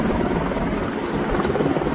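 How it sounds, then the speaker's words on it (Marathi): A helicopter at the Kedarnath helipad in the mountains gives a continuous, loud, close rotor-and-engine roar that stays steady throughout. "पण हे हेलिकॉप्टर"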